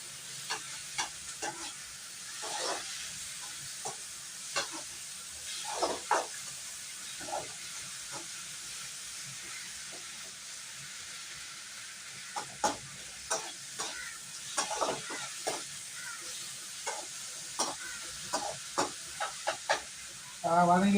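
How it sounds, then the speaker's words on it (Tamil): Chicken gravy masala sizzles softly in a pan, with a steady frying hiss broken by repeated scraping and clinking of a stirring spoon. "நல்லா வதங்கி வந்துக்கிட்டு இருக்கு"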